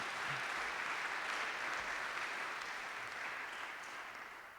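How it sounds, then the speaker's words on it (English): Audience applause at a high school senior awards night, a steady dense wash of clapping from a large crowd that holds throughout and fades slightly toward the end. "So if we could give Miss Pelletier a clap,"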